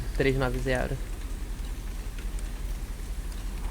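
Rain hisses steadily in the video game République, a continuous wash of falling water under a brief voiced sound at the start.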